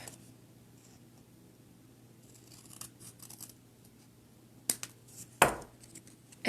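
Scissors trimming cardstock for a paper craft, a few quiet snips and rustles followed by two sharp, distinct cuts near the end in a quiet room.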